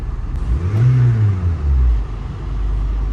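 The engine of a used car at a dealers-only auction rises into a close, loud rev that peaks and falls away, then settles into a low, steady rumbling idle.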